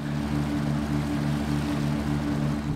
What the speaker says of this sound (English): Dodo plane.